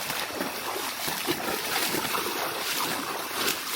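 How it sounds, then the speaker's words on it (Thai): A jungle waterfall in Surat Thani province, Thailand, gives a constant, broad rushing roar of falling water that stays steady throughout, with no voices. "มาเจอน้ำตกแล้ว"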